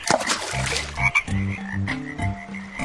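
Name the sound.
frog croaking in a cartoon pond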